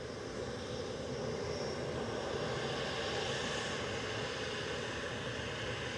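An Etihad airliner arrives at Manchester Airport, its broadband jet roar holding steady and fairly loud for the whole stretch, with no voices over it.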